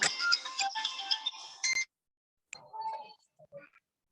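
A mobile phone ringtone plays a bright electronic melody for nearly two seconds, then stops and restarts briefly in fainter fragments, heard in a classroom setting.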